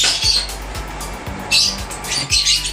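A pet bird squawks while its overlong beak is trimmed with a nail cutter, giving sharp, loud bursts of shrill calls close by, with soft clicks and handling noises between them.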